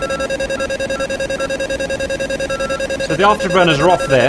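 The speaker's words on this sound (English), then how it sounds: "Sorry about the beeping. Just have to get rid of that beeping." Rapid electronic beeping pulses steadily in a fast, even rhythm in an F-5E Tiger II flight simulator cockpit, with a voice talking over it toward the end.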